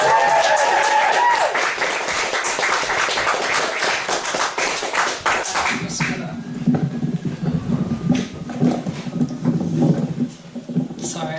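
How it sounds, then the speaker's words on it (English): A live audience in a small venue claps to welcome a performer to the stage, loud dense applause for several seconds that fades out as a performer starts talking over a low background hum. "give a massive round of applause for Biz"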